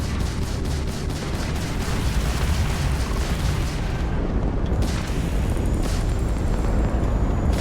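Spaceship missiles firing and exploding in the space game Starfield, a continuous, dense roar of booms and blasts that stays loud and close and is heard alone.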